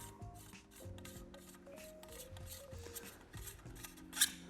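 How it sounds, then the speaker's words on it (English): A Dickinson Arms XX3D-M-2 shotgun choke is turned loose by hand, making faint, close metallic rubbing and gritty scraping of threads, with a small click near the end. "to remove and clean the choke, now loosen it by hand"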